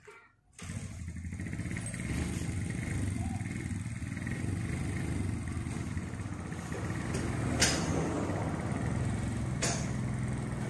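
An older fuel-injected Honda Beat motorcycle engine, burning oil with white smoke, idles steadily nearby with a smooth, even hum, rising slightly partway through, after a brief quiet start.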